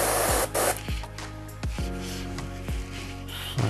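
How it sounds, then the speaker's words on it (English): An airbrush sprays out lubricant in loud hissing bursts, several spurts broken by short gaps and sharp clicks of the trigger, close up and with no voices. "of course we're going to get some of the lubricant coming out of the airbrush."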